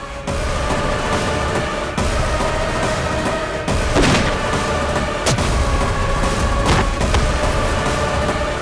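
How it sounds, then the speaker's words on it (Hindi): Gunfire in a Hindi TV drama scene: a dense, continuous roar of shots with several sharper, louder cracks standing out, steady and loud throughout with no talking. "ये तो गोली की आवाज है।"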